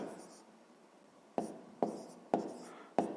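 Pen scratching out numbers on paper for a fifth-grade maths exercise, soft continuous scribbling broken by four sharp taps as the pen strikes the page, close and quiet with no talk.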